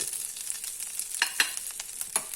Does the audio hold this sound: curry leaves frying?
yes